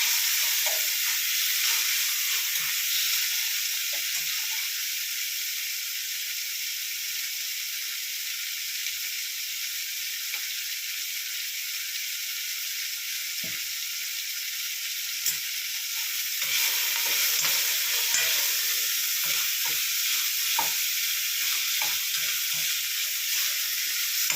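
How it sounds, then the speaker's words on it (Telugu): Tempering spits and sizzles in hot oil for gongura dal, a Telugu sorrel-leaf lentil curry, a steady broad hiss that runs loud and close throughout with small crackles and stirring clicks scattered through it. "ఇప్పుడు తాలింపు పెట్టాను అన్నమాట"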